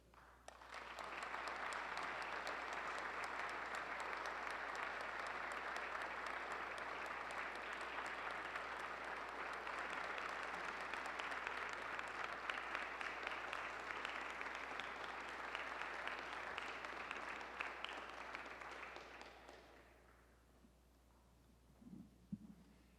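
Audience applause for candidates coming to the podium at a US Senate Republican primary debate, a steady sustained clapping that fills the hall for about twenty seconds before fading out, with a brief sound at the end.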